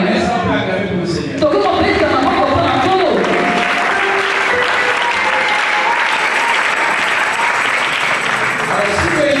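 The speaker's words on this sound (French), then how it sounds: "Est-ce qu'on peut acclamer pour le Seigneur?" A church congregation breaks into loud, sustained applause for the Lord, the clapping steady and dense throughout, with voices and cheers mixed in beneath.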